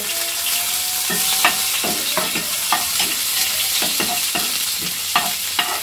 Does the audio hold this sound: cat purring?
no